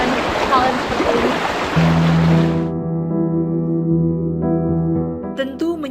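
A swift, high river near the village of Kopeang rushes loudly as a dense roar for a few seconds, then gives way to sustained musical tones.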